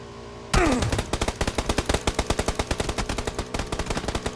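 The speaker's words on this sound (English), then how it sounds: "Shooting at me and I'm running away." Rapid automatic gunfire in PUBG, a fast string of loud, evenly spaced shots rattling on for several seconds, close and sharp with a brief pause near the end.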